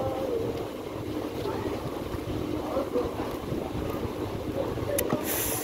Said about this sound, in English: It's so windy out here, man.